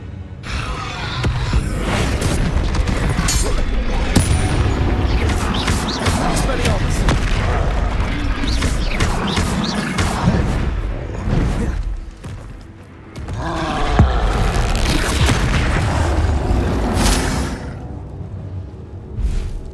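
Bombarda spell explosions and combat in Hogwarts Legacy on PC: loud, rumbling booms and whooshes pile up almost continuously, with grunts and other battle noise, and a brief lull midway.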